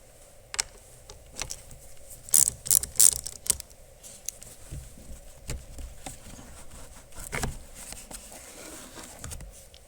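A ratchet with a 10 mm socket loosens the battery terminals on a 2015 VW Jetta, making faint, scattered clicks and taps close by in a quiet space.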